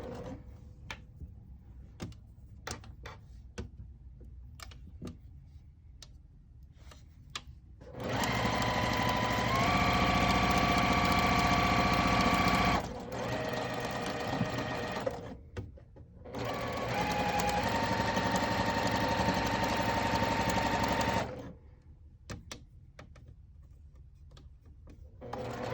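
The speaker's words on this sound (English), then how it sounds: "gonna sew all the way on the crossing end" A sewing machine stitches fabric closed in two long, loud whirring runs, with quieter handling clicks and fabric rustling in the pauses between them.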